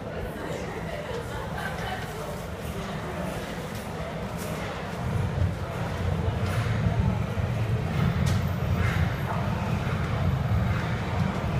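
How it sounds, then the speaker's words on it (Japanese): A Nagoya Municipal Subway Meijō Line 2000-series train rumbles into Sakae station, its low roar growing louder and heavier halfway through, over steady crowd chatter and echoing platform noise. "大曽根方面名古屋大学行き最終電車が参ります。"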